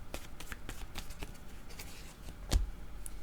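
Tarot cards are handled and shuffled at close range. A string of soft, papery flicks and riffles runs steadily, ending in a slightly louder snap as a card is drawn, with no talking.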